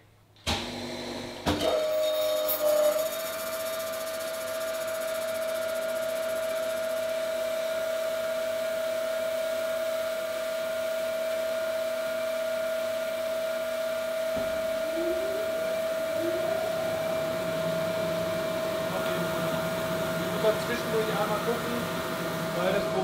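Crankshaft grinding machine, working on an Audi RS4 crankshaft, starting up after a click and settling into a steady whining hum while it warms up, close and continuous; voices speak faintly in the background.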